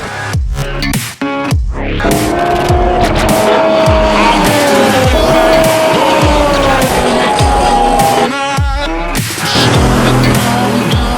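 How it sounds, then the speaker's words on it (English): A McLaren 600LT does a burnout in the pit lane at COTA, its engine roaring loud and close with rising revs, repeated rapid bursts and screeching tire squeal throughout, with brief pauses between blasts. "that 600 LT just did a nuts burnout"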